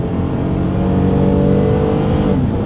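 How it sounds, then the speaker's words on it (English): A 2022 Toyota Highlander with a naturally aspirated engine accelerates hard, its loud, close engine note climbing steadily without a break; no one speaks. "let's see how quickly we can get our new 2022 Highlander here up to speed"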